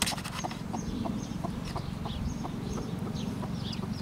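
A broody hen sits puffed up on her eggs, giving repeated low clucks and grumbles close by, with higher chirping calls scattered over a steady low rumbling background.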